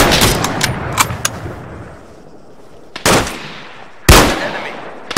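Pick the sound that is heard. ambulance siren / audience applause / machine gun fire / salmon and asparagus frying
machine gun fire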